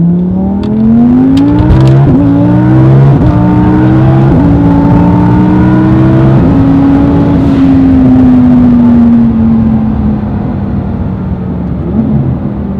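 A Stage 2 twin turbo car with a stock transmission accelerates hard, its loud engine note climbing steadily and dropping at each of several quick upshifts, continuous and close with no talking.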